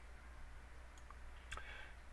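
A computer mouse gives a single faint, sharp click, alone against quiet background hiss.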